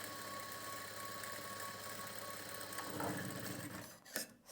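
Sewing machine stitching blouse fabric, a steady close mechanical whir running evenly before slowing and stopping with a brief clunk near the end, with no talking.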